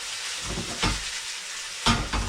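Food frying in a pan, a continuous close sizzle broken by a few louder bursts as the pan is stirred or the food is turned, with no talking.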